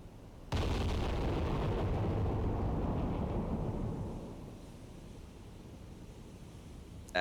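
Battleship New Jersey's big guns firing in the naval game Cold Waters, a sudden heavy blast that rumbles on for several seconds before fading, with another sharp burst right at the end.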